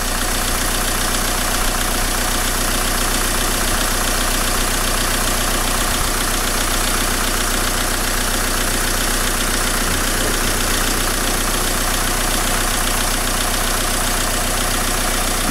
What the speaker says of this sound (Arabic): نلاحظ الموتور كيف بدا يرتاح اكثر.